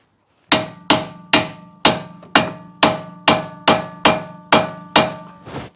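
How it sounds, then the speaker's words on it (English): Hammer blows tap a front strut (damper) out of a Mini Cooper R56, ten evenly spaced sharp metallic knocks about half a second apart, each ringing briefly, close and loud with no talking. "if we get the hammer and we start tapping"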